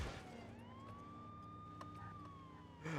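A siren in the video game True Crime: New York City wails steadily through a rising then level tone, set against a low engine-like hum and background noise, ending with a louder burst.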